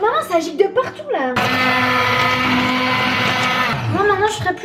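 Immersion blender whirring steadily in a saucepan in a home kitchen, loud and close for a few seconds, with someone speaking just before and after it starts and stops.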